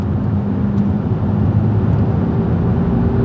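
A car driving along a road in Botswana, heard from inside as a steady, loud low engine and road rumble that holds constant throughout.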